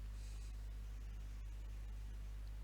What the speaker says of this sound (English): I will do a test with white noise.